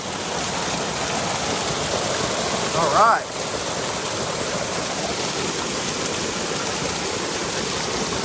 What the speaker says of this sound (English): Hey, look, a waterfall.